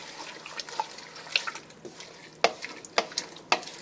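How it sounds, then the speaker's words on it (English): A spoon stirring chopped cabbage into cabbage roll soup with tomatoes in a pot, giving a series of wet scraping and clinking knocks at irregular intervals, close and moderately loud, with no talking. "Stir that down in there."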